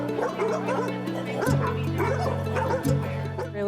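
Several dogs at a dog daycare yip and bark in quick overlapping bursts, loud and close, against a steady low hum and busy indoor background.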